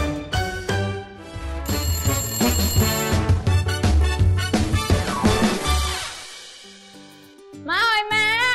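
A mobile phone left at home rings with a bright, busy melodic ringtone that plays loudly for several seconds, pauses, then starts again with warbling tones.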